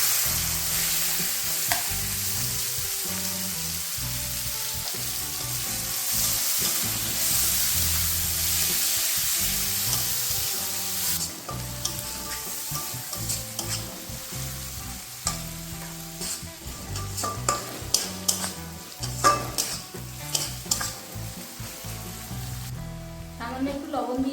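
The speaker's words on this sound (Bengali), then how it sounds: "এখন আমি কুচানো পেঁয়াজগুলোকেও দিয়ে দেবো।" Chopped onions sizzle steadily in hot oil with cardamom, cinnamon and a dried red chilli, while a spatula scrapes and stirs the pan in irregular strokes that grow more pronounced toward the end; close and continuous.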